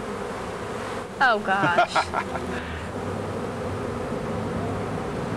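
Honey bees swarm around a beekeeper, their steady buzzing hum running through the whole clip beneath a brief burst of close speech.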